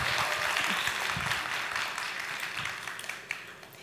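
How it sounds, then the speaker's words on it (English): An audience at a startup conference applauds steadily, the clapping fading gradually over a few seconds. "Give her a big round of applause."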